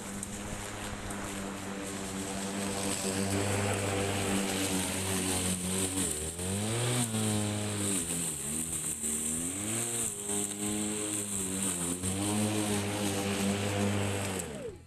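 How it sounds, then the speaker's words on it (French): A Stiga Collector 48 S AE cordless electric lawn mower cutting thick grass: steady motor drone with strong harmonic hum whose pitch dips and rises as the load changes, running continuously and close by. "on va voir si le moteur est assez puissant ou pas pour pouvoir bien tondre."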